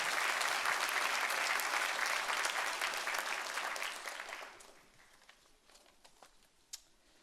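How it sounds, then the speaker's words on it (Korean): A church congregation at Sunday worship gives a welcoming round of applause, full and steady at first, then thinning into scattered claps before fading out. "여러분 큰 사랑과 환영의 박수로"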